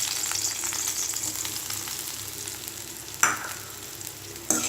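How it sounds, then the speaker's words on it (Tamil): Grated coconut fries in a pan for Kerala-style kadala curry, giving a steady close sizzle with faint scraping stirs and two sharp clinks near the end. "தேங்காய் சேர்த்துட்டு நல்லா ஃப்ரை பண்ணிக்கலாம்."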